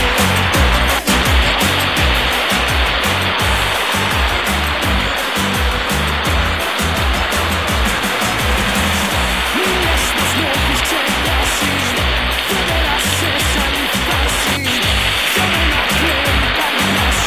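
Loud, steady rush of water roaring continuously, like a waterfall or fast stream close by, with no pauses.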